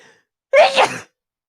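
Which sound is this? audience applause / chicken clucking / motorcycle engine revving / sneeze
sneeze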